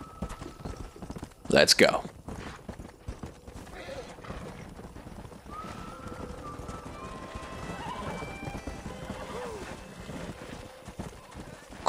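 Horse hooves clip-clop on a ranch in Red Dead Redemption, with a brief whinny or loud burst near the start, then a steady patter of hoofbeats under intermittent talk and ambient game sound.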